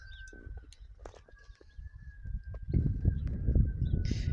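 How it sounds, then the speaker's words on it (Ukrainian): Starlings, roosters and other birds chirp and call outdoors on a windy village morning, with a steady whistling tone and scattered calls, while low rustling and thumps grow louder toward the end. "Співи птахів, шпаків, півнів."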